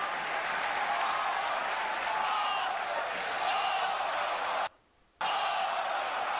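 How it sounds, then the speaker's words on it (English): A football stadium crowd at an Arsenal versus Chelsea match roars in a dense, steady wash of noise that holds loud and unbroken, then cuts out abruptly for a moment before resuming. "And the crowd roar their encouragement."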